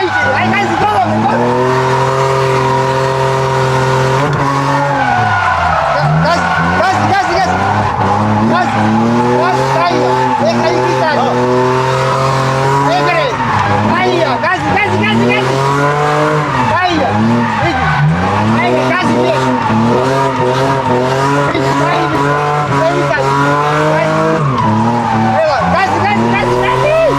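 A car drifting at full throttle during a drift lesson, loud engine revving and wavering continuously with tire squeal and skidding throughout, a voice talking over it.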